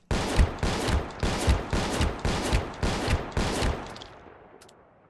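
Seven evenly spaced Enforcer shotgun blasts from the game Space Station 14 fire in a steady rhythm, loud and close, each shot booming with a sharp crack, then a fading tail after the last one.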